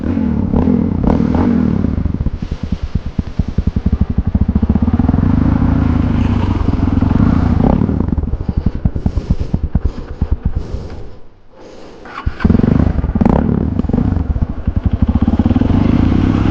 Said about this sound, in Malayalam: നമ്മൾ ഓപ്പൺ ചെയ്ത സൈലൻസറിൻ്റെ ആ ഒരു സൗണ്ടും കാര്യങ്ങളും ജസ്റ്റ് കേൾപ്പിച്ചു തരാം